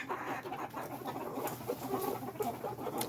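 Backyard chicken flock clucking and murmuring close by, several hens overlapping in soft irregular bursts with occasional sharper calls, no talking.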